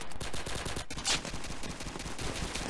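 Rapid automatic gunfire in the shooter game Counter Strike 2, dense repeated shots rattling across the whole stretch, loud and continuous with a short pause midway.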